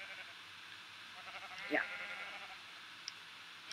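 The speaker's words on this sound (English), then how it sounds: "Oh, hello, sheep." A sheep bleats once in a Minecraft game, a short mid-pitched call over steady game background, with a brief spoken word nearby.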